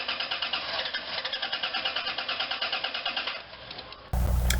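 The engine of a 1996-2002 Dodge Caravan cranks and runs to burn off fuel pressure, a rapid rhythmic chugging pulse that weakens and dies away before a sudden louder burst of noise at the end.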